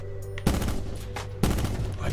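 Bursts of gunfire from an unusual weapon in the Call of Duty Battle Royale video game, two heavy volleys about a second apart over a constant game backdrop, loud and close.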